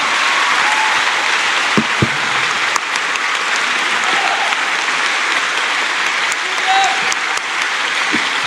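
A congregation at a Pentecostal church service claps loudly and continuously in praise, dense crowd applause sustained throughout with a few sharper individual claps standing out.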